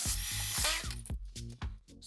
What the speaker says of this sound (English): So we'll drill with an 8mm bit